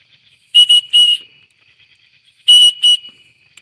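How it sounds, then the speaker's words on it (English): A shrill whistle built into a bushcraft knife sheath is blown in two bursts of quick, loud, piercing toots, close up, with quiet in between. "both of these have whistles."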